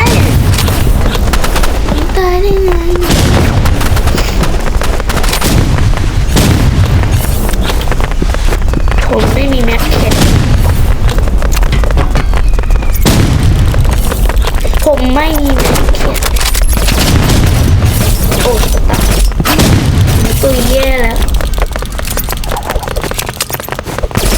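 Gunfire in the shooter game Rival sounds as repeated loud bursts and booms across a dense, busy game soundtrack, while a player talks excitedly over the action.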